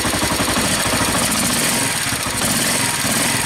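A Suzuki TU 250 X motorcycle engine runs steadily on choke with fresh petrol, a loud, continuous close-up rumble with a fast even pulse and no speech.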